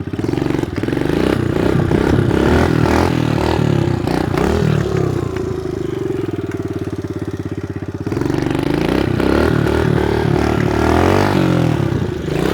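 A cheap secondhand pit bike with no rear brake revs hard and continuously while being ridden around a house, its small engine loud and near, rising and falling with throttle and a rattling clatter throughout.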